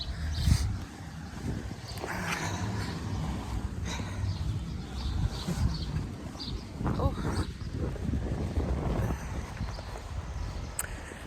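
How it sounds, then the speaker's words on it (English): Steady gusty wind buffets the microphone, a continuous low rumble with noisy bursts throughout. "a little bit windy"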